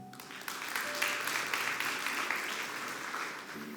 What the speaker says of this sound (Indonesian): Bolehkah wanita tepuk tangan?